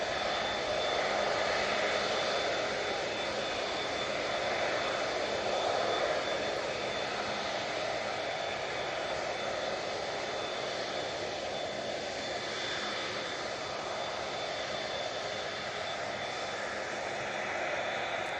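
Steady, sustained roar of an Emirates airliner's jet engines heard from a distance at Manchester Airport, a continuous broadband drone that holds level for the whole stretch with no talk.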